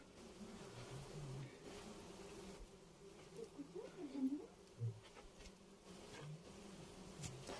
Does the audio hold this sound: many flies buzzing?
yes